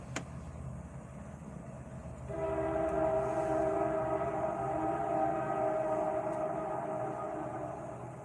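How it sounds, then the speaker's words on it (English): A loud train rolls past close by, its steady rumble swelling suddenly and holding with sustained horn-like tones until the end. "That train's loud."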